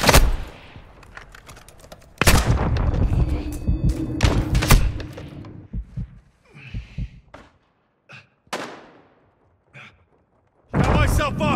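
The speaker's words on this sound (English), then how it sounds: "Taking effective fire!" Call of Duty DMZ firefight with loud, close bursts of automatic gunfire, heavy thuds and single shots. Quieter, scattered shots follow with short gaps of near silence, and brief voices are mixed in.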